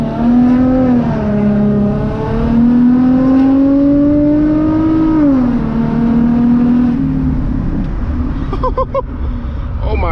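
An Infiniti G35 coupe revving loudly as its wheels spin, the engine note climbing and falling in long sweeps, close and sustained, with people talking over it.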